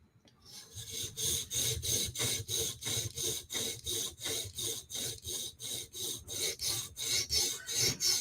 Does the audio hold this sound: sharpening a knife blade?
yes